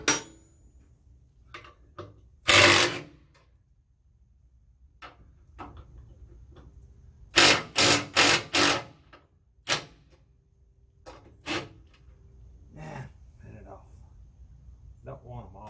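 A wrench loosening bolts on an estate mower: sharp metallic ratcheting bursts, including a quick series of four clicks, separated by quiet pauses, close up with light background noise.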